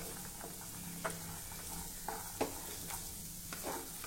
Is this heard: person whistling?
no